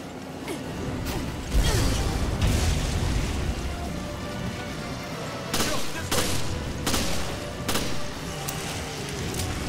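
Explosions and gunfire burst repeatedly in a Resident Evil video game, sharp broadband blasts standing out at intervals over a busy, dense background.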